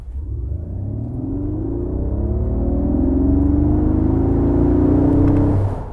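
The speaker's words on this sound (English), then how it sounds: "it sounded like a V8 motor" An electric Mercedes G580 accelerates on the road with a rising whir and low rumble that recalls a V8, swelling steadily louder for about five seconds before easing off, heard from inside without talking.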